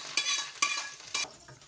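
Hot oil tempering poured over greens in a frying pan sizzles loudly in three sharp bursts, each hiss fading back down, with soft stirring sounds between them.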